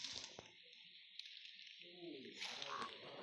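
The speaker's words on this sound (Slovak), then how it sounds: "Ale to je veľká žaba." A frog croaks in a video game, a faint low croaking rattle beneath a steady hiss of game ambience, with a brief voice near the start.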